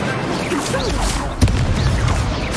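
An Incendio fire spell is cast in the video game Hogwarts Legacy, a sharp burst of flame with a single loud boom midway, set within a busy bed of swishing magical effects and game music.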